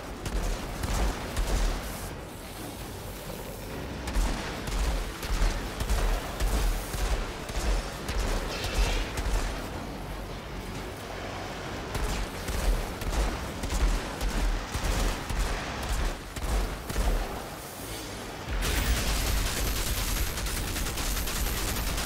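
Gunfire in the video game Outriders: sustained bursts of rapid shots and heavy fusillades, dense and loud for most of the stretch, with brief lulls and a final louder barrage.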